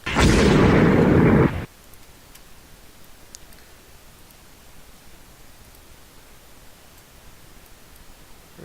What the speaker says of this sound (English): One of the torpedoes, I think, just exploded early.